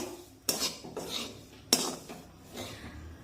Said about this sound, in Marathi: अगदी मंद आचेवर हे बेसन पीठ आपल्याला भाजून घ्यायचं आहे